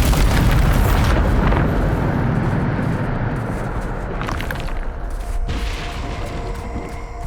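A Bombarda blast spell in the Hogwarts Legacy video game: a loud, close explosion with a heavy boom and crackling debris, rumbling on and slowly fading over several seconds.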